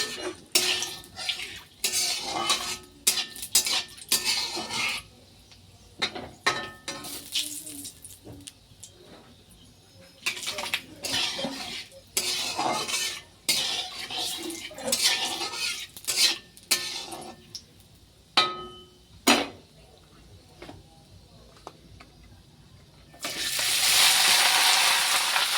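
Rice stirred and fried in ghee with whole garam masala, a spatula scraping and clinking against the pan in irregular bursts with soft sizzling between, ending in a louder hiss.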